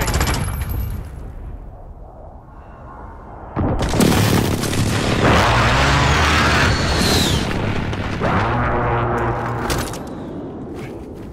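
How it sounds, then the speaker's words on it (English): A precision airstrike in Call of Duty: Modern Warfare lands as a heavy rolling explosion, followed by sustained roaring blasts and rattling gunfire, loud and close after a quieter opening. "Friendly precision airstrike on the way."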